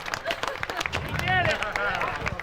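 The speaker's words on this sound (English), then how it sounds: "How about a round of applause for this kid?" Crowd applause for the winner of a Strictly Stock race at Star Speedway, with scattered claps and cheering in the stands under someone talking loudly over a PA.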